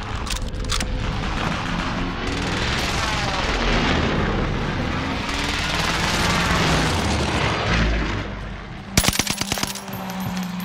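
Allied precision airstrike explosions in the Warzone video game come as a loud, continuous rumble of heavy booms and rolling blasts. The clip ends in a sharp burst of rapid gunfire-like cracks.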